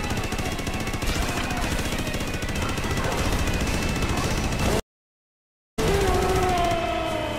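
Rapid shooting in the video game Astro Bot Rescue Mission during a boss fight against a big shark, dense gunfire-like bursts running steadily for several seconds, then a brief dropout before more game sounds with tonal effects.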